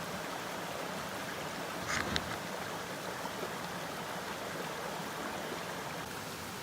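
A waterfall and stream rushing steadily as a broad, even roar of water, continuous and fairly close, with a couple of brief faint knocks partway through and no talking.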